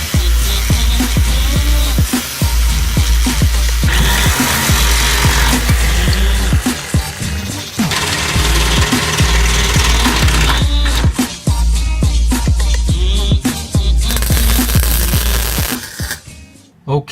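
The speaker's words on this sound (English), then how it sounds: "I got my grinder ready to go" An angle grinder cutting on the rear end of a Honda Civic, a loud continuous whining grind with repeated short pauses and restarts, harsh and close throughout.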